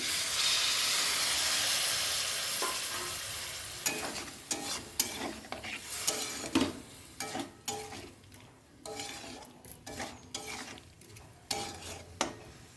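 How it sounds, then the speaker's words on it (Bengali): Biryani masala cooking down in a pan after a splash of water, a loud steamy hiss at first that fades into softer sizzling broken by scraping and clattering stirs of the spoon against the pan, close by with no voices. "একটু কষিয়ে নিলাম ভালো করে আর সামান্য একটু জল দিয়ে দিলাম"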